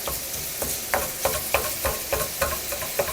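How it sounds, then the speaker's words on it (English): Sausage cooking in a pan on low heat, a soft continuous sizzle broken by regular scraping strokes of a spoon breaking up the meat, about three per second, close-up with no talking. "our sausage, it's cooking on low"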